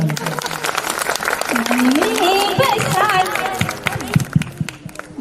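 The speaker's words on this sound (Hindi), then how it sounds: "शिवांगी भाभी के लिए जोरदार ताली" Audience applause at a Guru Darshan 2022 religious festival, a sustained wash of clapping from the crowd with a melodic voice or music rising over it midway before the clapping tapers into scattered claps.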